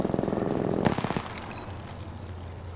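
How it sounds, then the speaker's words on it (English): Rapid automatic gunfire in the Apex Legends video game: a loud, fast-rhythm burst of about one second with a sharp peak, then fading into a quiet lingering hum. "Opening fire."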